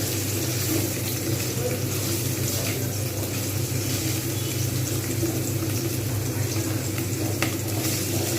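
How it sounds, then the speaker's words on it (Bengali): Paneer frying in a pan gives a dense, steady sizzle with a low background hum, close and continuous throughout. "এদিকে পনিরটা কিন্তু ভাজা হচ্ছে"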